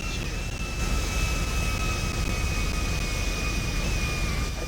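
Airplane engine drone inside a roleplay video game, a steady whining hum with a sustained high tone that holds at an even level throughout, no speech over it.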